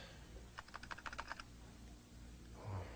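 A burst of quick keystrokes taps on a computer keyboard, about a dozen crisp clicks in under a second, faint and isolated over a low background hum.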